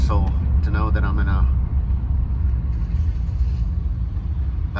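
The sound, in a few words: street traffic near a marina in San Carlos, Mexico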